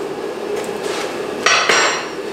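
Hammer blows ring on hot rebar as the reins of rebar tongs are forge welded, several sharp metallic strikes close by, the last two loudest and ringing out.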